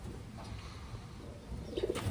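Soft, low coos from Taiwan pigeons rise near the end over a steady background hum, faint and somewhat distant.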